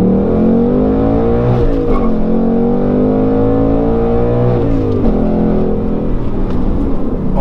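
A Ford Mustang GT's V8 revs loud and close, its deep tone rising and falling through several sweeping throttle pulls that carry on continuously with no voices over it.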